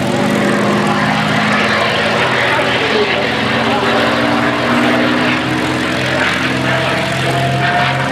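A P-51 Mustang propeller fighter flies past at the Oostwold airshow, its engine a loud, sustained droning roar throughout with a shifting pitch and crowd noise underneath.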